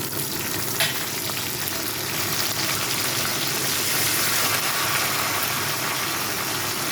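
Curry leaves hit hot oil for a potato curry made to serve with dosa, setting off a loud, dense sizzle that crackles on steadily throughout with no voices.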